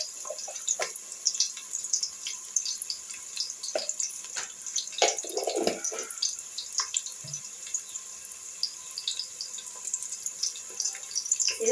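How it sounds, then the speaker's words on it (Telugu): Chopped onion and green chillies frying in a pan for a village-style fish curry: a continuous close crackling sizzle with scattered pops, moderately loud, and no talking. "ఆనియన్ పచ్చిమిర్చి అయితే బాగా వేగాలండి."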